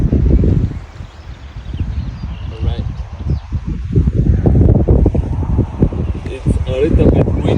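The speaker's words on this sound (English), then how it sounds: "A little bit windy today." Strong wind buffets the microphone outdoors during a test flight of a DJI Mini 4 Pro drone, a loud continuous roar and rumble with gusting surges throughout, and a voice briefly speaks through it.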